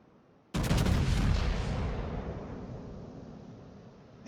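A warship's naval gun turrets fire a heavy salvo in a Montana-class battleship game battle: one loud, sudden blast rolling into a long fading rumble, heard alone without talk.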